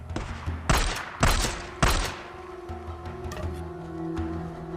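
Gunfire in a video game trailer: three loud sharp gunshot bursts in quick succession, then a lower rumbling backdrop with faint lighter reports.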